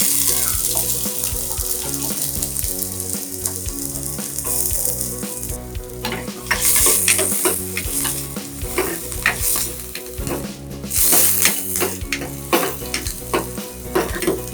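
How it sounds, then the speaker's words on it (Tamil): Onions frying in hot oil in a pan for chicken soup give off a loud, constant sizzle with scraping stirs and clinks of a utensil throughout, with no voices. "எண்ணெய் சூடாயிடுச்சு. இப்போ வெங்காயம் போட்டுக்கோங்க."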